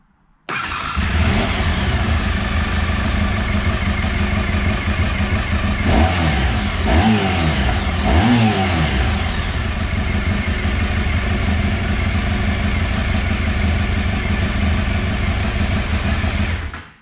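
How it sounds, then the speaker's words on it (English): A recommissioned Honda RC30 VFR750R motorcycle engine runs loudly and steadily, its exhaust clearing, with a few quick throttle blips revving it up partway through. "Sounds a lot better. The exhaust is starting to clear itself."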